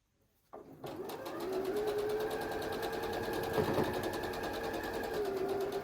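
A sewing machine starts up and runs steadily, stitching a quilt seam with a continuous close whirring hum and rapid needle rhythm, alone.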